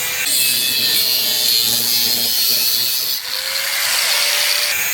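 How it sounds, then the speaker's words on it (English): Power tool cutting rusted, rotten metal out of the sides of a Mercedes Sprinter camper van, a loud, continuous harsh grinding whine that holds steady throughout with a brief dip near the end. "Got Gary cutting out all of the rot in the sides"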